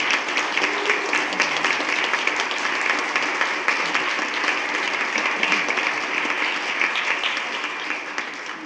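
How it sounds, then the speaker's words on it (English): Sustained, even applause fills a board meeting room as honored attendees stand, a dense crowd of clapping hands that stays steady for several seconds and eases slightly at the end. "if I could have them all stand, and we could give them a round of applause"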